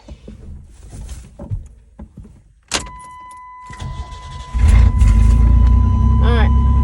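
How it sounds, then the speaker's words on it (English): A 1992 Chevy S10 pickup engine cranks and catches, then settles into a loud, steady idle close by, after some earlier knocks, handling noises and speech. "I'm going to crank it and see what I got"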